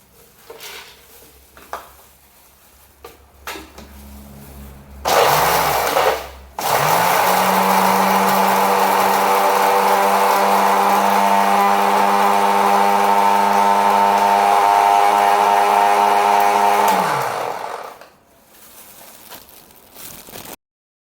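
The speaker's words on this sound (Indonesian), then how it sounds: "yang kita lakukan adalah menghaluskan cabai kering dengan menggunakan blender." An electric blender grinds dried chili peppers into powder, starting with short bursts and then running loud and steady for about ten seconds before winding down and stopping.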